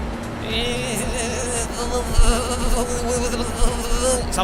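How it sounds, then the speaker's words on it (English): A thin, wavering mosquito-like buzz in a train simulator video game, holding steady for several seconds over a low engine drone, with a couple of louder bumps partway through. "Something sound like a mosquito."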